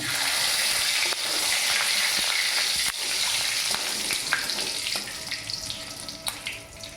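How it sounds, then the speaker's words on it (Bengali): Whole cardamom pods and torn bay leaf crackle in hot oil for a vegetarian soya chunk rezala: a steady, dense sizzle with sharp pops scattered throughout, loud and close, with no voices. "ফটফুট এলাচ ফুটছে"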